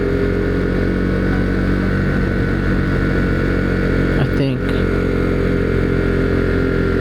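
Husqvarna Svartpilen motorcycle riding near the Rockfish Gap entrance of the Blue Ridge Parkway, a steady loud engine drone with wind rush throughout and one brief disturbance midway.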